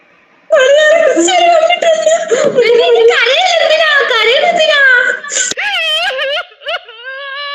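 A person cries out in a loud, wavering, high-pitched wail that rises and falls continuously for several seconds, then breaks into shorter whimpering sobs near the end, close to the microphone.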